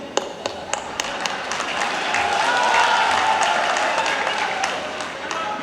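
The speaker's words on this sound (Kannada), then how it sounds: "ಅದಕ್ಕೂ ಚಪ್ಪಾಳೆ ತಟ್ಟೋದು" An audience at a political rally breaks into applause that swells to a broad wash of clapping, with scattered sharp claps at first and a voice speaking over it.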